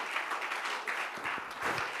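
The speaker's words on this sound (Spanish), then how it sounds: "si ese aplauso es para Él, hermano, bríndeselo con celebración y júbilo" Church congregation applauding during a Spanish-language Christian sermon, a steady dense wash of clapping filling the space for two seconds with no break.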